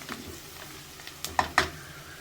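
Green chillies sautéing in a pan for vegetable pulao, a faint steady sizzle broken by a few sharp stirring clicks near the end, with no talk.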